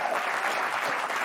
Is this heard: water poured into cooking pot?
no